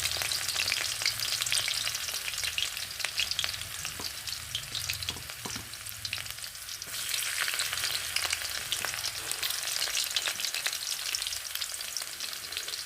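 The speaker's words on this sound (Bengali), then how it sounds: "কিছুটা কালো জিরে ফোড়ন দিয়ে দেব আর দিয়ে দেব প্রায় আট নয় কোয়া রসুন কুচি" Black cumin seeds and eight or nine cloves of chopped garlic sizzling in hot oil, a steady crackling fry with light stirring clatter throughout.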